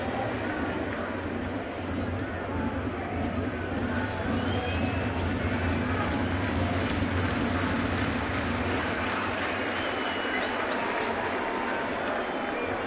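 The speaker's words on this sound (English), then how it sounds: "you hear the crowd cheering" Stadium crowd roaring and cheering at a Yankees baseball game against the Angels, a dense, sustained wash of noise from thousands of fans with a steady low rumble and no pauses.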